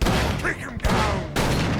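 Gunfire in the horror game Call of Cthulhu: Dark Corners of the Earth: dense, loud, rapid bursts of shots filling the whole stretch, briefly easing twice, with voices mixed into the din.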